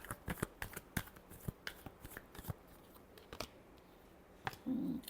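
A tarot deck is shuffled by hand in quiet close-up: a quick run of crisp card riffles and taps, spaced irregularly and trailing off, with a brief soft rustle near the end.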